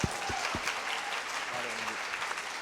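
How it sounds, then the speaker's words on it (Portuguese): An event audience applauds a presenter, a dense, continuous wash of clapping that stays even throughout, with a few low thumps at the start. "Uma salva de palmas para o Márcio"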